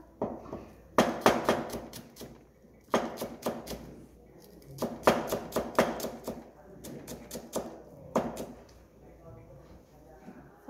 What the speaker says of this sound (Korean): 오늘도 파마늘 다져서 쓰시는 거예요.